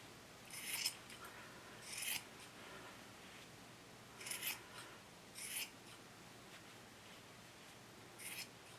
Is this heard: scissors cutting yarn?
yes